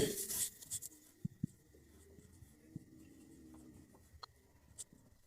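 Pen or marker scratching across paper or a board as a formula is written out for a primary-school maths lesson, soft intermittent strokes with a few sharper taps, close and quiet, with no talk.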